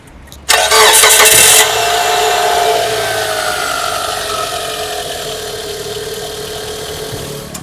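A Mitsubishi Space Wagon petrol engine cranks and catches with a loud burst, then settles into a steady, fairly close idle that slowly quiets.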